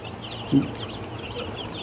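Broiler chickens cluck faintly in a poultry pen, a single soft cluck rising briefly above a constant low background hum.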